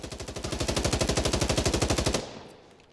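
An M4A1 rifle fires full-auto in Insurgency Sandstorm, one loud, steady, rapid string of shots lasting about two seconds before the echoing tail fades out.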